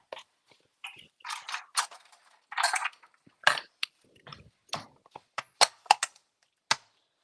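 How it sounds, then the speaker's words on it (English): Pecans are chopped into tiny pieces with sharp, irregular knife strikes against a board, close and crisp, in quick uneven bursts separated by short silences. "I'm going to chop them better because I want tiny pieces."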